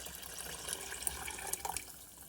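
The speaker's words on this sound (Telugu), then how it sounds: "ఇప్పుడు ఇందులోకి వాటర్ యాడ్ చేస్తాను" Water poured into a cooking pan of cumin curry in a home kitchen, a soft continuous splashing trickle with a few brighter drips, close and quiet, with no talking.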